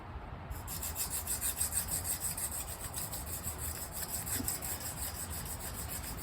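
A steel knife blade rubs steadily back and forth across a coarse sharpening stone during edge repair, producing a continuous gritty scraping with a soft repeating rhythm, close and fairly quiet.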